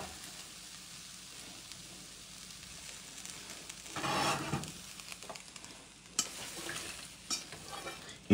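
Sliced onion and potatoes frying in a dry pan with no oil while being stirred, a quiet steady sizzle with scraping bursts of stirring and a few sharp utensil knocks.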